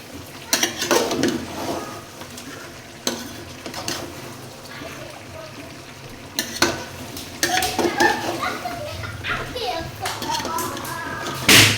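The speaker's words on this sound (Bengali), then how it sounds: "জিরা বাটাটা দিয়ে একটু কষাই নিব।" A curry stir-fried in a pan with cumin paste, with intermittent clanging stirs and soft sizzling while children's voices and chatter carry in the background of a family celebration.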